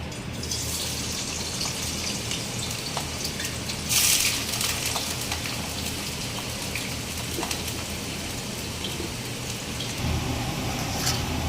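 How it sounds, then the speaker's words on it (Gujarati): Thin potato chips frying in hot oil give a continuous crackling, rain-like sizzle, with a brief brighter burst of spatter and a few clinks of a utensil against the pan. "પાણી કાઢી લીધા બાદ આપણે એને ફ્રાય કરી લેવાનું છે।"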